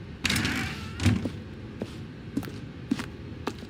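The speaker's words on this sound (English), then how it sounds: "Stanley walked through the red door." Door in The Stanley Parable Ultra Deluxe, heard as a few quiet thuds and knocks: a louder clunk at the start and another about a second later, then light taps and steps scattered through a quiet room.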